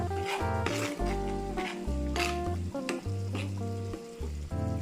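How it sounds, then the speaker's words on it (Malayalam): Bitter gourd kichadi sizzles steadily in a hot pan while a spoon stirs and scrapes through it, with music playing in the background. "ഒന്നിളക്കി കൊടുക്കാം"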